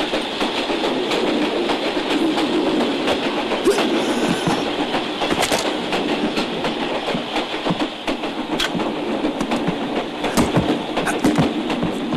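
A train, numbered 47 in a Korean war film scene, rolls steadily along the rails with continuous rumble and repeated clickety-clack of the wheels, loud and close throughout.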